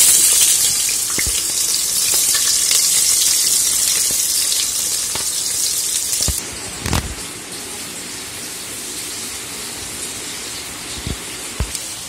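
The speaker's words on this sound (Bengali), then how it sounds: "তো এবার দিয়ে দিচ্ছি আমি পেঁয়াজ।" Sliced onions hit hot oil already holding bay leaf, cloves, cardamom, cinnamon and dried red chilli, giving a loud sizzle that settles to a softer, steady fry punctuated by a few clinks and stirring knocks.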